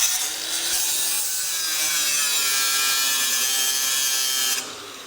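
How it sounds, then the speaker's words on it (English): A power cutting tool, such as a cut-off tool, jigsaw or sawzall, bites steadily through a body panel on an '88 K5 Blazer, a loud continuous high rasping grind that cuts off sharply at the end. "grab your cut-off tool, jigsaw or sawzall,"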